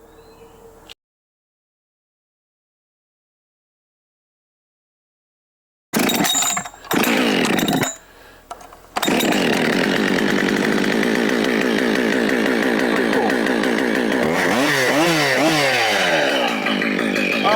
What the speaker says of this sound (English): we're going to run some saws